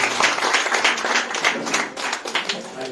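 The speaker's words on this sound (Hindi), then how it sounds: "जोरदार ताली बजाएंगे यीशु की नाम में" Applause and clapping from an audience at a church conference in Goa, a dense, sustained patter of many hands that holds at a steady level throughout, with a few voices mixed in among the crowd.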